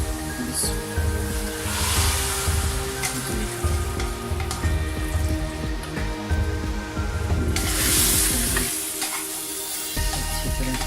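Golden-brown fried onion tempering poured into cooked whole masoor lentils, giving a loud, continuous sizzle and bubbling that runs steadily throughout with no talking.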